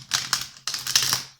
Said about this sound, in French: je vais mieux brasser parce que je ne veux pas que l'ancienne carte revienne